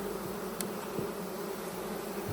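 Honeybees busy on BeeWorld wax foundation inside a hive give a steady, close buzzing drone that holds evenly throughout, with a brief faint tick near the start.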